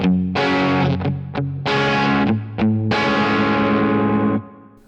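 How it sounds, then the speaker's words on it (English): Heavily distorted electric guitar strums three chords in turn, each ringing out loudly with brief choppy stabs between, the last chord sustaining and fading. "So those 3 chords together."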